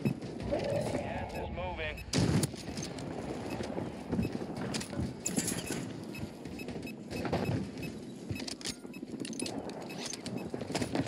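Rapid bursts of MP5 gunfire from the Warzone 3 video game on Rebirth Island, sharp repeated shots and clatter mixed through a busy, continuous game soundscape.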